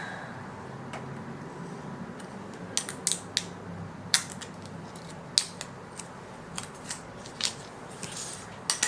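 Scissors snip through paper while a Filofax planner is set up, a string of sharp, close crisp cuts coming in uneven bursts over quiet room tone.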